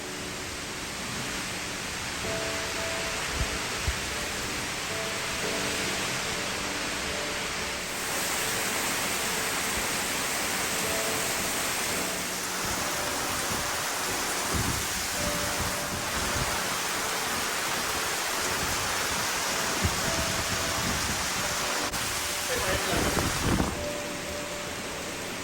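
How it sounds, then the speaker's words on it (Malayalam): Heavy rain pours steadily outside as a dense, constant hiss, loud and unbroken throughout, with brief low rumbles underneath. "അത് കഴിഞ്ഞ ഉടനെ തന്നെ നല്ല ഉഷാരം മഴ പെയ്തു"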